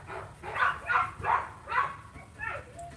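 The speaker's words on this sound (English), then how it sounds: "I'm sorry about the dogs, you guys." Several dogs barking in a yard nearby, about six rough bark bursts in a steady rhythm, moderately loud, with no talk over them.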